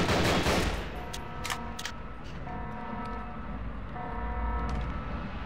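SMG fire in Nightmare House 2, several sharp bursts of shots popping in quick succession over a droning, humming game background, fairly loud and close.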